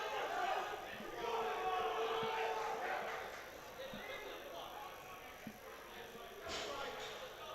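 A crowd at a Swansea vs Cardiff varsity powerlifting meet shouts and cheers a lifter through a bench press, a dense roar of voices with individual yells rising over it.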